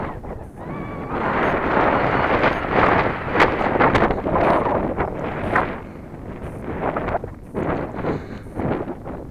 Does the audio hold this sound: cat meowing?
no